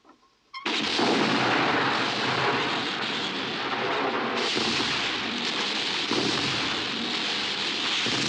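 Western film gunfire: after a brief quiet moment, a dense, loud, continuous barrage of shots and blasts runs without a break for the rest of the stretch, with no speech.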